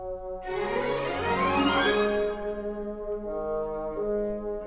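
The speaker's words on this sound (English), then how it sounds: "And of course, those woodwind runs are working directly with the string runs." An orchestral passage from the Polar Express score, with woodwind runs moving together with string runs and a sweeping harp glissando, rich and sustained, then settling into held chords, with no talking.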